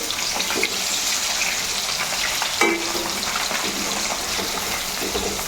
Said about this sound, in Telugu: ఇలా 2 సైడు చక్కగా వేపేసుకోవాలి.